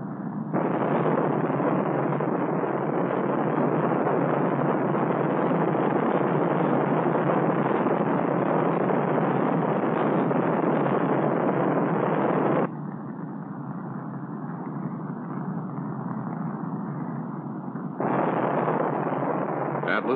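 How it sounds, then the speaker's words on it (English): An Atlas launch vehicle's three main engines, two boosters and a sustainer, ignite at liftoff with a continuous loud broadband roar that drops in level midway and then surges back, with no speech audible over it. "the Atlas launch vehicle ignites."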